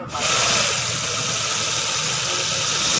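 A car engine runs loudly and steadily up close, rocking on a worn left front engine mount, with a rough, rattling texture throughout.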